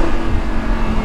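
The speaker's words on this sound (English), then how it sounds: "Another one of my favorite parts about this car is the exhaust." Lamborghini Huracan exhaust rumbles steadily and loud at close range as the car is shifted into first, a deep continuous idle drone with no talk.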